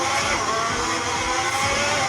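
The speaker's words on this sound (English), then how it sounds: "as soon as the engines roar" Formula 1 car engines from the F1 2020 racing game on a wet Monaco street circuit, a steady, loud, continuous high-pitched engine whine with a broad noisy wash beneath it, no voices.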